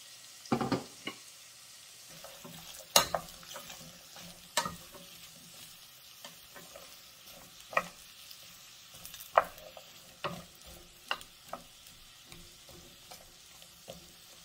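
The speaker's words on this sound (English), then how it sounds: "And I'm going to just dump in my squash and onions." Squash and onions frying in a pan for a vegetable curry, a soft steady sizzle broken by irregular stirring scrapes and knocks, close and fairly quiet, with no talking.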